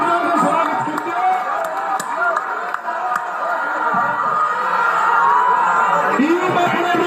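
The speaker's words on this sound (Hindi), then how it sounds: "ताली बजाकर स्वागत कीजिए।" An audience at a spiritual congregation gathering claps and cheers in welcome, a loud sustained wash of applause with scattered whoops and voices mixed in.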